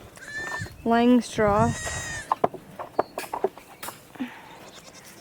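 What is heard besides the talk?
goats bleating on a farm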